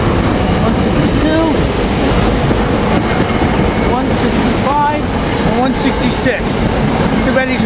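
A commuter train with its string of rail cars rolls loudly and steadily past close by at a Temple University stop during rush hour. Wheel rumble and rattling clatter continue throughout, with faint squeals over the top.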